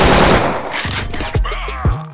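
Rapid gunfire in a shooter video game, a loud close burst of automatic shots followed by a few separate heavy reports, with no talk over it.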